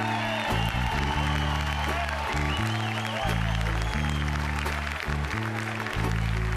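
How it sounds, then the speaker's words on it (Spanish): Concert audience applause for an accordionist and singer, heard under a loud, stepping bass line from the band playing throughout at a live show in Irún. "para el que pide un fortísimo aplauso"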